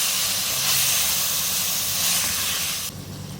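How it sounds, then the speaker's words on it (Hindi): Minced meat frying with onions in a pan, a loud continuous sizzle and hiss close by that drops slightly near the end. "मिक्स करेंगे इसको प्याज के साथ और इसको इतना भूनना है कि इसका कलर चेंज हो जाए।"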